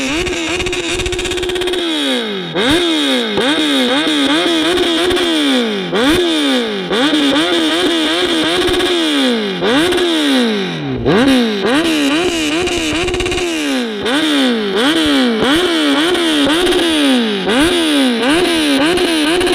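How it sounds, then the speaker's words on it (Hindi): Kawasaki Z900 motorcycle exhaust revved repeatedly up close, loud rising and falling engine howls in quick rhythmic bursts with sharp blips, crackles and pops between revs. "So right now we have the z900 with us and भाई एग्जॉस्ट की आवाज़ सुने बगैर कैसे जाने दे सकते बाइक को।"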